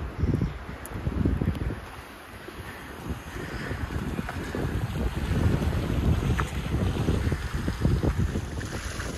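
Strong cold wind gusts steadily outdoors at a lakeside viewpoint near Skardu, with loud, continuous buffeting rumble on the microphone and no voices.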